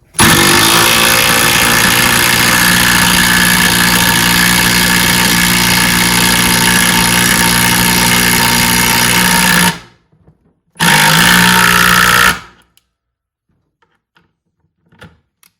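A Metabo HPT 36V triple hammer impact driver drives a lag bolt into wood, a loud sustained hammering buzz for about ten seconds, a brief pause, then a second short burst before stopping, leaving near silence.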